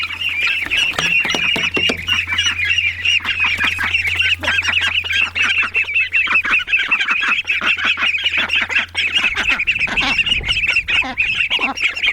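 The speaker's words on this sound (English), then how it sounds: "it's Daisy and the ducks." A flock of Indian Runner ducks quacks and honks in a dense, overlapping chorus, loud and close, with a steady low hum underneath for most of the stretch.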